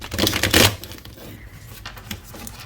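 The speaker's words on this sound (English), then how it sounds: "So I'm going to give it a good shuffle" A brisk burst of a tarot deck being shuffled, loudest at the start, followed by softer rustling and light flicks of the cards nearby.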